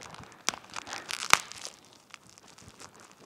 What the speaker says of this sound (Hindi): ये जो छोटी वाली पॉलीथीन है, इसका साइज मैं खोल के आपको बता देता हूँ